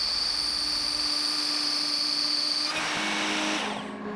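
A DIY CNC router mills aluminum with a steady high-pitched spindle whine and cutting noise, which shifts and drops in pitch near the end before trailing off.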